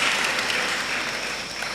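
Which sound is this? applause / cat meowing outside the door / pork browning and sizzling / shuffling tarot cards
applause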